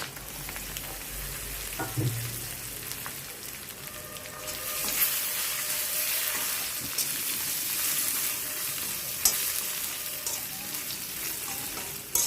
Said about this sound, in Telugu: నూనె కాగిందండి, ఎండుమిర్చి వేస్తున్నాను.